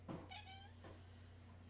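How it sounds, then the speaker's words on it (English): A cat at a feline rescue center meows twice, short and fairly faint, over a steady low background hum. "kitty cat"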